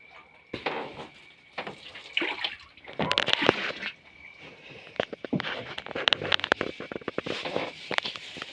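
Liver and blood being washed in water in a kitchen while preparing Thai khanom jeen curry sauce, with irregular splashes, sloshing and handling noises close by, in bursts with short pauses.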